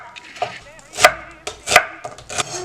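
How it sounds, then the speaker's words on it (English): Knife chopping through food on a cutting board in a home kitchen, a handful of sharp, close knocks spaced unevenly, several louder strikes standing out clearly. "I'm gonna slice down the middle."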